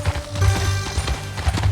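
Horse hooves clip-clop in Red Dead Redemption 2, a steady walking rhythm of soft, close thuds with a low rumble beneath.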